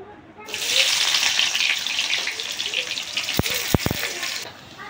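Onions frying in oil as the first step of a duck meat curry: a steady broad sizzle and hiss that runs for several seconds, with a few sharp clicks and pops near the end.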